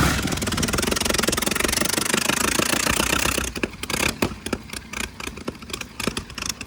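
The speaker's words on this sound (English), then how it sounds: "This car is equipped with a thunderous and fiery 990 cubic inch engine, an F-head, 4-cylinder." A 1906 Locomobile racer's 990 cubic inch four-cylinder F-head engine runs with a loud, steady, rapid pounding, then settles into slower, uneven individual firing beats, close and alone.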